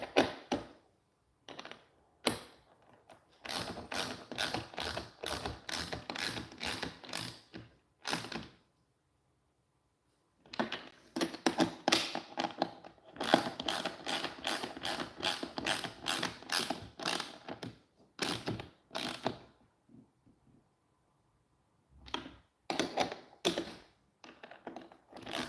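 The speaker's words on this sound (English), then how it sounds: "I got the 11 on my quarter drive ratchet and my wrench. I'm going to come around this side to tighten it up though." A quarter-inch drive ratchet tightens bumper bolts on a 2012 Chevrolet Malibu, giving rapid runs of clicking pawl ratchets in several bursts separated by quiet gaps, close and clear with no talking.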